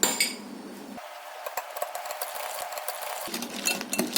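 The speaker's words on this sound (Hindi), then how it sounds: "थोड़ा सा मैं इसे फेंटूंगी" A utensil whisks an egg omelette mixture in a bowl, producing a quick run of close clinks and taps against the bowl's sides.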